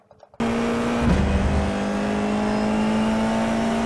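A Formula IR-04 race car engine held at full throttle in a racing game at Donington Park, a loud steady high-pitched drone with a brief dip and shift about a second in, then sustained flat out.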